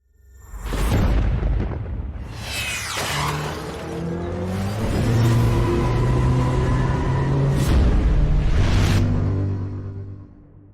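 Dodge muscle car engine, the 840-horsepower Demon, roaring and revving loudly with throaty rumbles and sharp rising bursts, sustained for about ten seconds with no talking.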